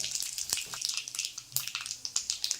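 Mustard seeds, cumin and dried chillies splutter in hot oil, a quiet, close crackle of sharp irregular pops over a soft steady sizzle.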